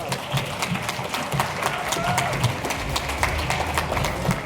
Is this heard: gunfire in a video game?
no